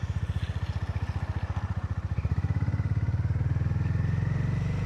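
A Honda GB350 single-cylinder motorcycle thumps along with a rhythmic pulsing exhaust, rising in pitch as it accelerates and settling into a steady beat while riding, close and fairly loud with no voices.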